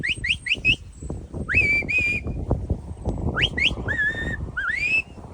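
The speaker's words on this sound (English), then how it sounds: "you have a different sound and whistle for each of them commands" Shepherd's whistle commands for sheepdog herding on a farm in County Mayo, Ireland: a series of sharp, close, pitch-sliding whistle bursts in quick groups, some rising and some falling, over low wind and outdoor rumble.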